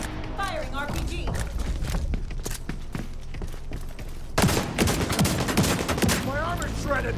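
Bursts of gunfire and an RPG blast in The Division 2, dense rapid shots and thumps at close range, swelling into heavier firing midway, with game voices talking over the shooting.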